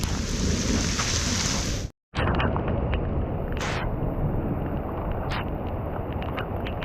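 Heavy rain pours steadily on a mountain, a dense broadband hiss with a brief dropout near the start, then faint intermittent squeaks over the continuous downpour.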